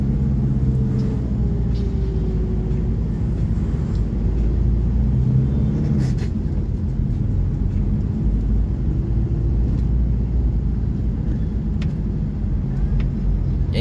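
Heavy road traffic on EDSA in Metro Manila, heard from inside a car: a steady low engine rumble with faint passing vehicles, continuous and muffled throughout.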